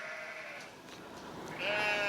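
A sheep bleats loudly and continuously as a sound effect, its wavering cry rising and strengthening near the end, with no voices.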